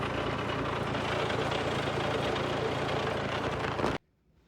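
A tractor engine runs steadily and loud at close range while slurry is pumped out, a dense continuous rumble that cuts off abruptly near the end, leaving near silence.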